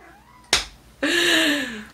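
An elderly cat gives a clear, close meow that bends downward and lasts most of a second, coming just after a sharp snap-like smack.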